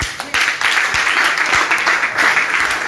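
A church congregation applauding during a spiritual training session: thick, continuous clapping from a crowd, loud and sustained across the whole stretch, with no clear speech on top.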